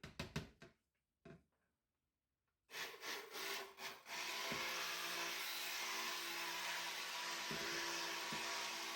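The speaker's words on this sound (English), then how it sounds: "I don't like that scraping on the bottom." Spatula or scraper rubbing against the bottom of a cold process soap-making container, faint scraping strokes at first, then a steady gritty scraping that continues for several seconds.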